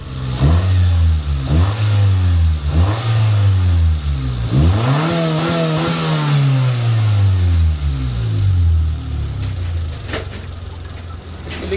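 A Honda Civic engine, fitted with iridium spark plugs, revs repeatedly during a test drive: several loud rising-and-falling vrooms, then one long pull that winds up and slowly settles, close and continuous with no talk.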